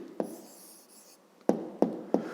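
A pen writing an answer on paper during a fifth-grade maths exercise gives a short scratch, a pause, then three quick, close taps as marks are made.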